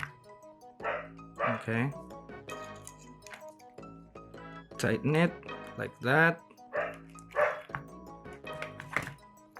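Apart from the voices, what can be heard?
dog barking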